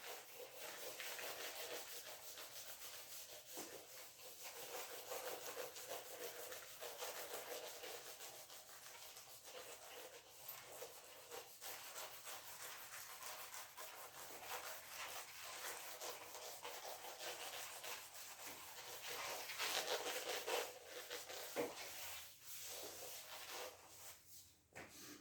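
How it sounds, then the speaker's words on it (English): One solid body is rubbed against another in a rigid body kinematics demonstration, making a faint, continuous scraping friction sound with small swells that lasts about 25 seconds. "Now I rub this one."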